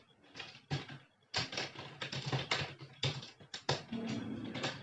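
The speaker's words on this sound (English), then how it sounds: "I'll just enter Control N and I'll just start typing" Bursts of rapid clicking keystrokes on a computer keyboard while typing into a code editor on Windows 10, close and crisp, broken by short pauses.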